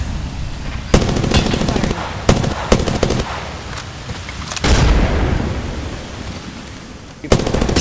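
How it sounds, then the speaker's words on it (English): Gunfire and explosions in a video game: loud bursts of rapid shooting broken by sharp cracks and booming blasts, with a brief word spoken over the din. "Heavy ammo here. Taking fire."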